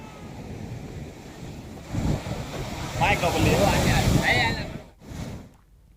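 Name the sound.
sea waves surging at Dwarka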